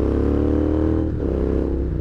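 A Royal Enfield Interceptor 650 motorcycle idles close by with a deep, throbbing exhaust burble, steady and loud, with a slight dip in pitch midway.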